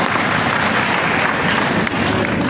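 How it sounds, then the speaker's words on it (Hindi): Dense applause from a large audience at an outdoor political rally speech in Bhabua, a thick continuous wash of many hands clapping at close range with no talk over it. "जितने लोगों ने तालियां बजाई"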